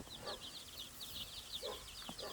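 Young day-old broiler chicks in a pen give rapid, thin, high-pitched peeps in overlapping bursts, faint and fairly close, with a few soft low thumps underneath.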